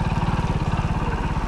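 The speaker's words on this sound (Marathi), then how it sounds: "बाईक गावागा ना हीच मजा असता खरी गाडी चालवण्याची गावच्या रस्त्यांवर." A motorcycle rides along a village road, its engine giving a close, steady, loud rapid chugging pulse with no talk over it.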